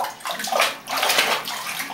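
Bath water splashing and sloshing in a tub as a child plays, in close, continuous bursts of watery slaps for about two seconds with no talk over it.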